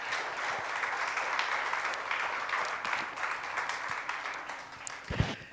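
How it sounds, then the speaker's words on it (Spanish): A church congregation applauds steadily and fairly loudly, with a dense wash of clapping that holds throughout and a few louder knocks near the end. "Dale un aplauso al Señor, por favor."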